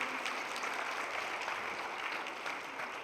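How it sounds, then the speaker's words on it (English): An audience at a community forum on synthetic drug dangers gives a warm round of applause for a state representative: steady, dense clapping from a sizeable crowd, close and fairly loud, with no talk over it. "please give a round of applause for our State Rep"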